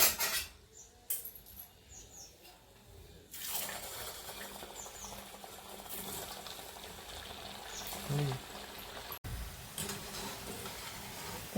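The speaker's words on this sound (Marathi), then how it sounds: "आता हे डोनट आहे ना आपण तेलात फ्राय करून घेऊ." Semolina masala donuts hit hot oil, and a steady, soft frying hiss settles in and continues with a few faint clinks, heard fairly quietly and close.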